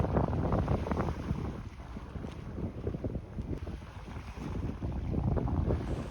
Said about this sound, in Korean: 오늘 바람이 세서 파도가 제법 거치네요